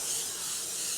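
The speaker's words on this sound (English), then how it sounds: "let's spray them a little bit." A steady hiss of a spray bottle misting continuously for about a second, close and fairly loud, with no voices.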